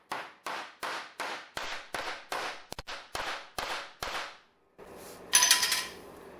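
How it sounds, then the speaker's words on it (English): Hammering a T-nut into wood during a 1998 Bayliner boat restoration: about eleven sharp, evenly spaced close hammer blows, followed by a brief quieter pause and a final scrape. "And then all you do is just hammer it right in."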